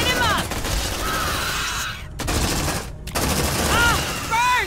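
Sustained automatic gunfire roars in Aliens: Dark Descent, loud and continuous with two brief breaks, while alien shrieks and squeals rise over the shooting.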